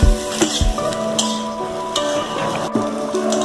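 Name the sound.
chicken pieces frying and sizzling in a pan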